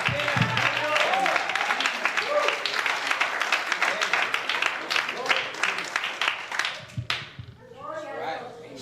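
Church congregation applauding during a Spanish-language sermon by a pastor, a dense, steady wash of many hands clapping with voices mixed in, fading out near the end as a voice resumes.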